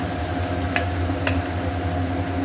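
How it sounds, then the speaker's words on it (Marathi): Onion for pav bhaji frying in very hot oil over a high flame, a steady close sizzle with two faint clicks. "कांदा चांगला परतून काढायचा"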